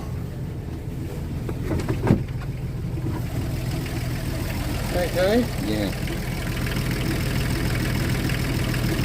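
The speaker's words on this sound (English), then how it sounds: "This engine is 5 years old." A five-year-old engine idles nearby in a steady, low, continuous rumble that holds level throughout, with people talking briefly over it and a short knock partway through.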